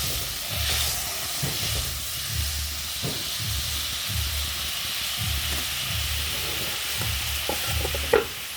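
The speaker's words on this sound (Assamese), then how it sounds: "মই পৰিমাণ অনুসৰি এড কৰিলোঁ পানী।" Water poured into a pan of fried spice masala for kofta curry gives a steady sizzle and hiss, with repeated stirring scrapes at a regular rhythm.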